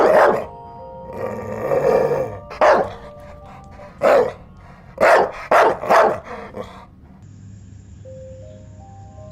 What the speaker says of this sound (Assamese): খুব জোৰেৰে ভুকিবলৈ ধৰিলে